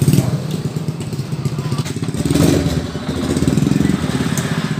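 A Honda Supra 125 motorcycle engine cranks and catches, settling into a loud, close, steady idle with some mechanical clatter.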